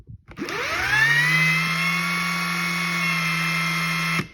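An Ingersoll Rand W5153 cordless impact wrench spins up in forward and runs freely with a steady, close, high-pitched whirring motor tone, then cuts off.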